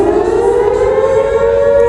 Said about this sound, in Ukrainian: Наше життя зараз. Повітряна тривога.